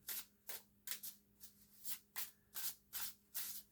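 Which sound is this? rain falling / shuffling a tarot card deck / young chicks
shuffling a tarot card deck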